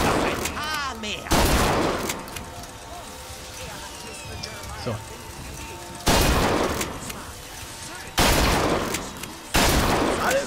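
Gunfire in the BioShock Infinite video game, several loud bursts of shooting in short volleys separated by quieter game ambience, with someone talking briefly.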